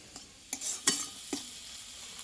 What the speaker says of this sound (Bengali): ওপর দিয়ে একটু গরম গুঁড়ো ছড়িয়ে দিয়ে এবার নাড়াচাড়া করে নেবো